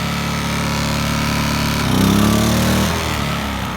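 A Briggs & Stratton P2200 generator engine runs steadily and loudly close by, its pitch shifting and straining about halfway through as a Stihl RE 109 pressure washer puts it under heavy load and into overload.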